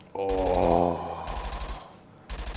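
Automatic rifle fire, an R Matrix LR30 in the looter game Arkadia Underground, comes in two loud close bursts of rapid repeated shots separated by a brief pause, with a short electronic tone at the start.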